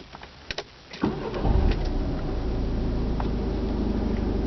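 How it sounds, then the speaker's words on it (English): A 2011 Peugeot RCZ being powered on: a few clicks, then the engine cranks and catches into a steady, loud idle hum heard up close inside the car. "Let's power on the car."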